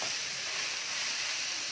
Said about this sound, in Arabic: احنا بنكتفي بس بان احنا بنشوحه على النار